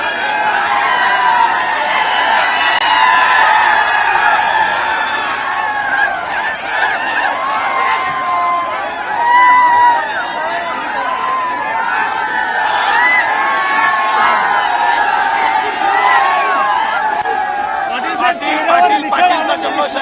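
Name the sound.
crowd celebrating and cheering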